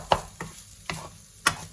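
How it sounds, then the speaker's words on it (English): Plant-based mince frying in a pan for chilli, heard as four sharp, separate stirring scrapes and taps spaced irregularly across a faint sizzling background, close and fairly loud. "my mince has been frying up"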